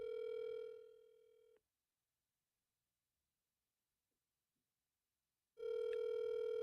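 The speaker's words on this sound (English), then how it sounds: "It just keeps ringing and ringing." A telephone rings unanswered on a call that never goes to voicemail, with two long steady ring tones separated by about four seconds of silence, loud and close as if heard through the handset.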